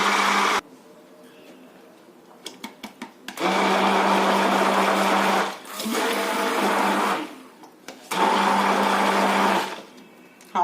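An electric blender runs in loud, steady bursts while whipping toumieh, the Egyptian garlic sauce. Three long blending runs are separated by brief pauses and clicks, with no talk.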